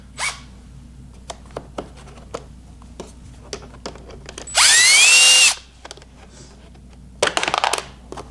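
A power drill whirs in one loud burst with a rising pitch as it backs out Torx T25 screws from the hood of a 2018 Ski-Doo Rev Gen 4, with small clicks and handling taps before and a brief rattling buzz afterward.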